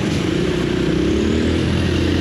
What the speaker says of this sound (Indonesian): kita ganti knalpotnya jadi knalpot sepi kayak gini coy